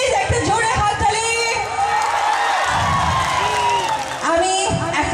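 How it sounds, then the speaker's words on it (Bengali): A crowd at a gathering cheers, whoops and claps over a steady roar of many voices, with the noise swelling and then dipping briefly near the end. "প্লিজ একটা জোরে হাততালি।"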